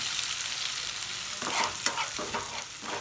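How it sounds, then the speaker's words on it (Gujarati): Crushed garlic roasts in a pan for schezwan chutney, giving a steady close sizzle broken by several scraping stirs of a spoon against the pan. "અત્યારે લસણને બધું શેકાઈ રહ્યું છે"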